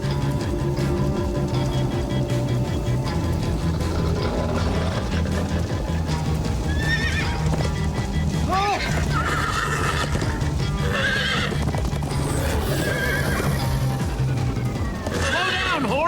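Horse galloping and repeated whinnying in the Minecraft: Story Mode game, with steady clip-clop hoofbeats throughout and several loud neighs, under music and game sounds.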